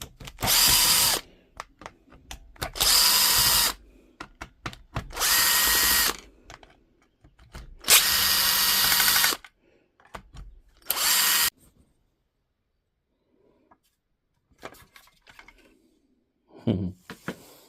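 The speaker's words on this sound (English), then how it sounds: "just got to remove all the screws now" A power drill backs screws out of a DSS611 circular saw during a DIY repair: five close, loud whirring bursts with short pauses between them, followed by quiet handling clicks and a faint rattle.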